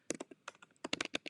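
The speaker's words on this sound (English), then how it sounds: "Typing." Quick bursts of typing on a computer keyboard, close and crisp, with clusters of keystrokes broken by short pauses.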